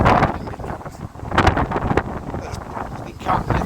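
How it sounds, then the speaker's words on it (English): Strong gusts buffet the microphone outdoors, making a rough, loud rumbling that surges and drops in bursts over a few seconds, with no clear words. "It's very windy suddenly, isn't it?"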